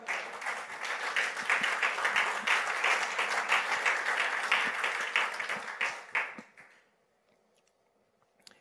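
A church congregation gives sustained, loud, dense applause for about six seconds, then it stops abruptly and leaves near silence.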